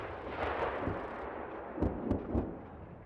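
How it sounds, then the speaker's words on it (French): Distant, muffled booms of live-ammunition artillery fire during NATO military manoeuvres near Cincu, Romania, a few heavy thuds spaced irregularly over a low rumbling background. "Les canons tirent toutes les quelques secondes et avec des munitions réelles."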